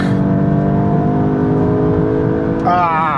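Hot hatch engine from a VW Golf 8 GTI and Hyundai i30N drag race drones loudly and steadily inside the cabin, then climbs in rising revs near the end.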